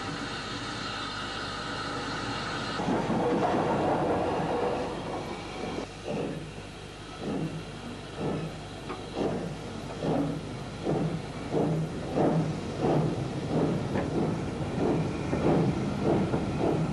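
Preserved LSWR and Southern Railway steam locomotive number 120 running, with a steady series of rhythmic chuffs and rail clatter building in pace after a quieter start, fairly close and loud.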